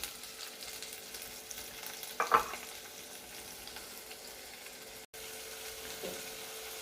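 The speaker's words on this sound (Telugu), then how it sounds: "టమాటా వేసుకుంటాను." Tomato pieces tipped into a pan of onions frying in oil for chicken curry, giving a brief louder sizzling burst over a steady low frying hiss, with a faint clink a few seconds later.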